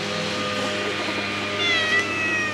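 A cat on a leash in a park meows in drawn-out, wavering cries that rise near the end, close by and clear over steady outdoor background noise.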